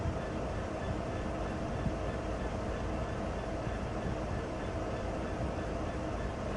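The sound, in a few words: BNSF SD70 locomotive pulling a grain train, departing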